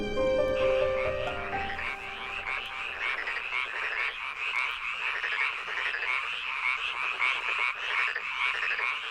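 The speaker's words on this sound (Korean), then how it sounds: "밤이 깊어도 논의 개구리는 잠들지 않는다." Frogs croak at night in a rice paddy, a dense, continuous chorus of many overlapping calls that stays loud and steady throughout.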